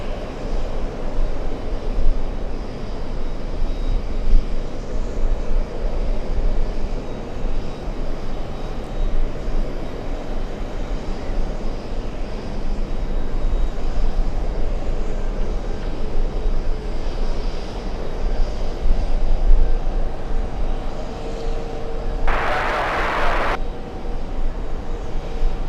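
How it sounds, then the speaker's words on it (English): A Boeing 777-300 arriving from Hong Kong at JFK Airport makes a long steady jet roar that swells slightly and then eases, with a brief higher burst near the end. "A 777-300 flying in from Hong Kong."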